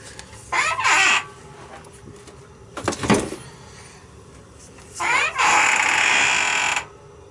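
Loud, harsh chicken calls in two long bursts, like a rooster crowing or hens squawking, with a brief clatter between them and little else around.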